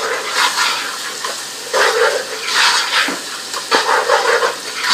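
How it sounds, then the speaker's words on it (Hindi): Ginger and garlic fry with onions in hot oil for a chana daal mutton curry, a loud sizzle that swells in bursts as the pan is stirred. "इसको मिलाने के बाद आप इसको ज़रा सा 2 मिनट आप इसको फ्राई करें ताकि इसकी खुशबू जो है वो ऑयल में हो जाए"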